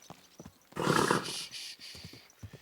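A horse in the video game Kingdom Come: Deliverance II whinnies loudly, followed by a few soft hoof clops and snorts nearby.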